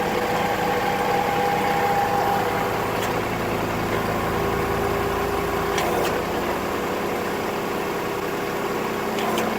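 A Kubota L3301 compact tractor's diesel engine idling at a little over 1,000 RPM, a steady, close, continuous mid-low drone with a few faint clicks on top.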